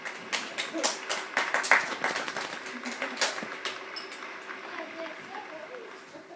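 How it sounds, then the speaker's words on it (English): Scattered audience clapping at a graduation ceremony, coming in uneven bursts that build and then thin out, with people talking over it throughout. "Could we have a round of applause for everyone involved in graduation preparations?"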